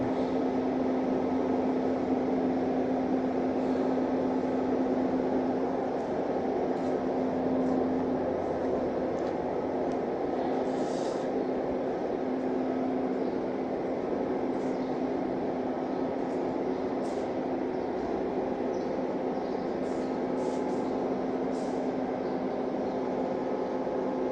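Steady low hum inside Vientiane's Khamsavath railway station, a constant tonal drone and distant faint activity, no clear voices.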